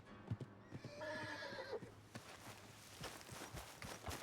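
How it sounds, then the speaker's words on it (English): A horse in Red Dead Redemption 2 clops along at a walk, then lets out a loud whinny midway before the hoofbeats carry on, close and clear with no talk. "Oh, my horse."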